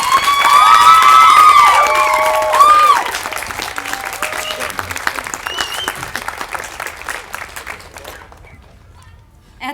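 An audience at a small-town festival ambassador coronation applauds committee members, with loud clapping and high cheers and whoops at first, then thinning applause that dies away into quiet.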